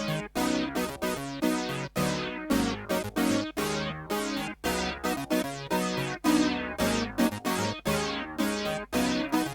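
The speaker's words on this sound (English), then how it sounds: "I want to add a little bit of flanger to them to make them sound a little bit more raspy" Rhythmic synth chords pulse steadily with a sweeping, whooshing flanger coloring each stab, layered over a thumping boogie disco beat; no voices.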